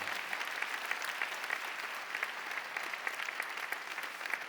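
Church congregation applause during a Korean choir appointment service, a steady, moderately quiet patter of many people clapping that continues evenly for several seconds.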